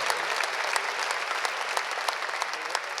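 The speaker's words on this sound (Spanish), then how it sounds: "un fuerte aplauso para nuestro concejal de acá, de Iribarren" A hall audience applauds a local councillor from Iribarren at a formal aviation anniversary session, a steady dense wash of many hands clapping throughout, moderately loud with no voices on top.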